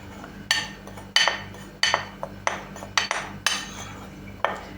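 A utensil clinks sharply against a bowl while flour and potato starch are stirred, giving about eight distinct, close knocks at uneven intervals with quiet scraping between them.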